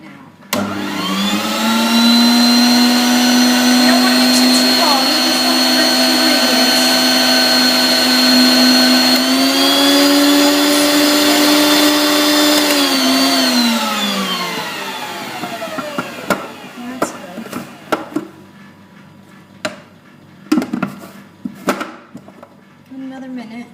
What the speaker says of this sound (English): I'm going to turn the mixer on. Get that going right now.